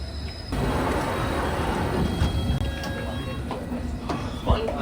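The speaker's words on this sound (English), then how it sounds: "District Line train, bound for Upminster, arriving just as I get to Gunnersbury." A London Underground District Line train bound for Upminster pulls into Gunnersbury station with a loud, steady rumble and rattling wheel clatter close by, then squeals and clunks as it slows, with a voice talking over it.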